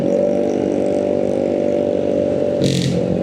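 A motorcycle fitted with a loud aftermarket brong exhaust drones steadily and close by, with a brief clatter near the end.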